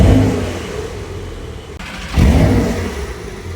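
A Porsche 992 Turbo S engine roars loudly while driving, easing off briefly before surging into a strong rev midway.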